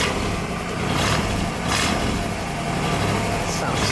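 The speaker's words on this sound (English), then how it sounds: "Exhaust note, a little rev." A 1960 Edsel Ranger convertible's engine runs loud and close, its exhaust droning with a few brief revving swells.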